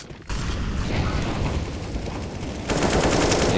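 Rapid AK rifle fire in a Counter-Strike match on the Inferno map, a loud dense burst of repeated shots with mechanical clatter that grows heavier near the end, no talk over it.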